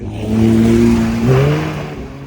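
A Porsche 992 GT3 RS revs hard while drifting in snow, its engine note climbing, dipping and surging again as it passes close by.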